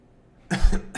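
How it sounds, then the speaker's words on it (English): A man gives a harsh, close cough that breaks into a short burst and then a second smaller cough, a throaty spluttering fit like choking on his own spit, with quiet room noise before it. "I'm coughing on my own spit"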